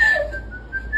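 A single sustained whistled note from Dopey in the live-action Snow White film, steady and clear with a slight wavering pitch, fading briefly near the end before rising again, with no talking.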